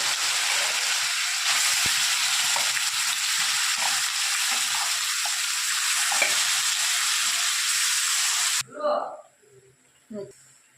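Chicken sizzles loudly in hot oil in a wok, a dense steady crackle that stops abruptly near the end, followed by a brief voice.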